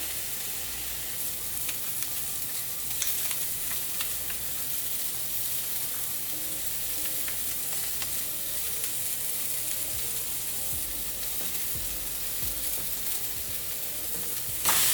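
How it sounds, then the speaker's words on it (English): Bison burger patties fry in a pan over low heat, a steady close sizzle with faint crackles running unbroken the whole time, no voices. "So I'm gonna let the patties cook for like 3 minutes on one side"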